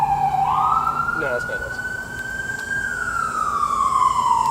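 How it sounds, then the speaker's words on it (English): An emergency vehicle siren sounds in a long, loud rising and falling wail that swells and then fades as it passes, over steady rumbling engine noise, with a brief spoken line over it. "I don't know to turn on the sirens for that"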